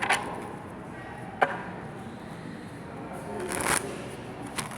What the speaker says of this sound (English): So I'm going to do one more shuffle